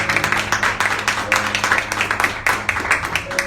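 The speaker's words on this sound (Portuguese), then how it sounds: "Você pode aplaudir o Senhor?" Church congregation clapping during a sermon, a dense, continuous patter of many hands filling the space at moderate loudness with an organ-like sustained tone underneath.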